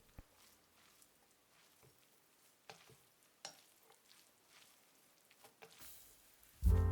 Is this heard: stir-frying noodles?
yes